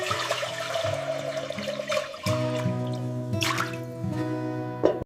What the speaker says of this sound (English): Starting with pure, fresh water.